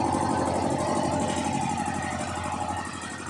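A steady, low mechanical hum of an Ultra VA80B 3 hp air compressor with a 260-litre tank running continuously, fairly loud and close, easing slightly toward the end.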